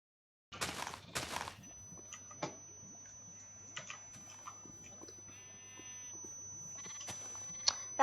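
Faint, brief Minecraft sheep bleats sound now and then over quiet keyboard clicks and a soft, steady background tone.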